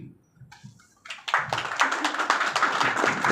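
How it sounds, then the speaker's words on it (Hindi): A small group of friends claps for a speaker before a business presentation: a few scattered taps at first, then a burst of dense, close hand clapping that continues steadily to the end. "तो जो भी मेरे दोस्त हैं वो मेरे लिए ताली बजाएंगे"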